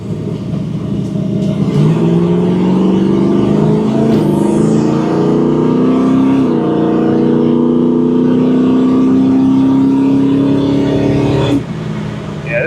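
A 1968 Chevrolet Camaro accelerates at half throttle, its V8 loud and close, pitch rising steadily through a long pull with a gear change early on, then cut off abruptly near the end.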